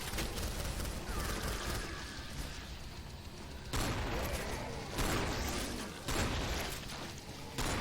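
Rapid gunfire from the zombie shooter game Killing Floor comes in dense, loud bursts with brief breaks between volleys, sharp impacts stacking into near-continuous fusillades.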